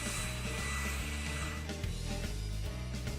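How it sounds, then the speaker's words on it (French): A hair dryer blows steadily while drying white glue brushed over a painted cardboard house, a loud continuous whirring hum with a slight wavering pitch and no voices. "Sèche la colle à l'aide d'un sèche-cheveux jusqu'à ce qu'un film apparaisse."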